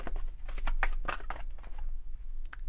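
Cards drawn from a Psychic Tarot deck, a few crisp papery snaps and slides heard close up, separated by brief pauses.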